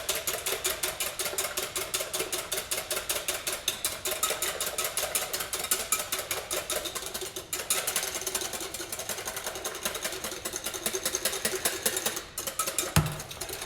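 Cheesecake mixture for a caramel egg cheesecake being whisked by hand in a bowl, a fast, steady stream of close, rapid metallic ticking and scraping that runs continuously with no talk.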